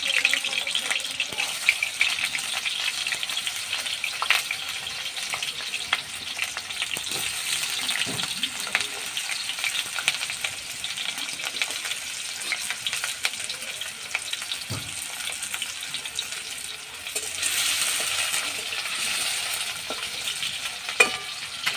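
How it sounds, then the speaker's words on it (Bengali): Potatoes frying in hot oil for a Bengali home cooking session, with a continuous close sizzle and crackle plus occasional scraping stirs, loud and steady on its own. "তেলটা গরম হতে থাক। এবার আমি আলুগুলো ভেজে নেব।"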